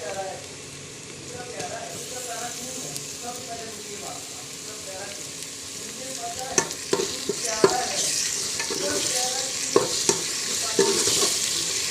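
Ginger garlic paste sizzles and spatters in a hot pan while a utensil stirs and scrapes, with occasional sharper pops and a steady frying hiss.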